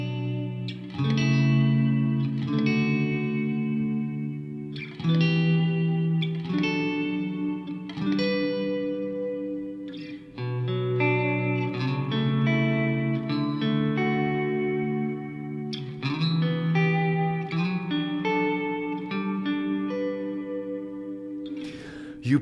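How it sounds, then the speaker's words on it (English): Ambient electric guitar plays a slow chord progression drenched in chorus, reverb and echo effects, each chord ringing out sustained and fairly loud with no talking over it. "Today I'm going to show you one of the most popular progressions for ambient guitar,"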